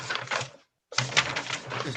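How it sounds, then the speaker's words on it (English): Clicky keystrokes from someone typing on a keyboard during an online business meeting, two bursts of rapid tapping split by a short gap of silence, fairly close and clear with no talking. "Somebody's typing. Can we mute somebody?"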